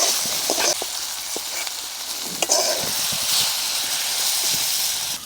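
Malabar spinach stalks sautéing in hot oil in a pan, a steady close sizzle and hiss with occasional stirring scrapes throughout.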